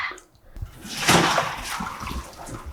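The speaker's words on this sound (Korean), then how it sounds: "이제 헹궈서 깨끗하게 찬물에 샤워를 해주겠습니다." Blanched butterbur shoots are rinsed under cold running water, with a steady, fairly loud splash and slosh of water against the greens for a few seconds and no talking.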